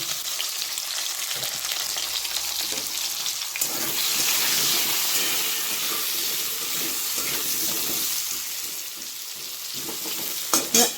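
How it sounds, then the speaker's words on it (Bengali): Potatoes with turmeric and salt frying in hot oil make a loud, close, continuous sizzle, stirred now and then, with a few sharp utensil knocks near the end and no speech. "আলুটা ভালো করে লাল লাল করে ভেজে নেব"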